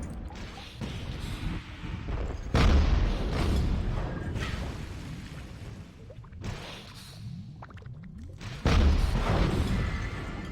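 Cannons in Dungeon Keeper 2 fire in repeated heavy booms, several loud blasts spaced a few seconds apart, each followed by rumbling decay.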